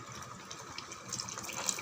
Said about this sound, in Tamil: இங்கே பாருங்கள் ஃப்ரெண்ட்ஸ், நல்லா கொச்சிடுது புளி தண்ணி.